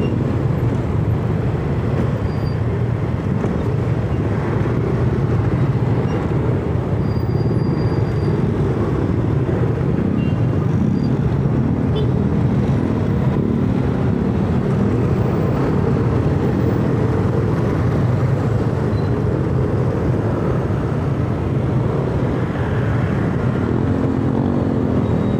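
Motor traffic, including motorcycles, rolls along a bicycle lane in a steady, continuous roadway drone of engines and tyres, moderately loud throughout with no distinct single pass standing out.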